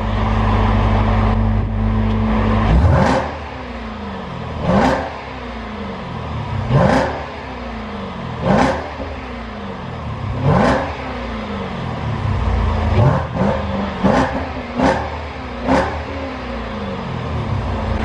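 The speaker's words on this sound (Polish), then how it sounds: "Mam nadzieję, że na nagraniu pięknie było słychać jak brzmi ten samochód" A 755 HP Jeep Trackhawk with a 6.2 l engine revving inside a tunnel, a low idle giving way to about nine loud, sharp throttle blips, with echoing reverberation after each burst.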